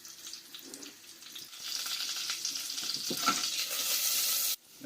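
Onions fry in a pan for an orzo fish dish, giving a steady, close sizzle with stirring scrapes that builds slightly and then cuts off abruptly just before the end.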